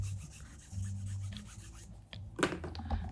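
A guitar fret is rubbed and polished to clear scuffs and scratches, a close, soft rasping friction with short back-and-forth strokes and a few sharper scrapes near the end.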